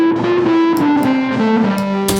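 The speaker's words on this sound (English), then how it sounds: "So that's the fuzz going through the tape echo." A distorted fuzz pedal tone runs through a tape echo, with sustained gliding notes whose pitch wavers and drifts downward. Repeated echoes trail behind them, loud and up close.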